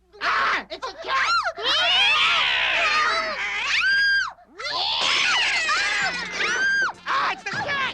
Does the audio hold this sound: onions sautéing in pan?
no